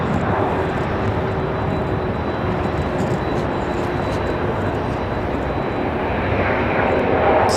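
An Air France airliner taxis at Raleigh Durham airport at night, its jet engines giving a loud, steady broadband roar with a faint high whine that swells slightly toward the end, with no talk over it.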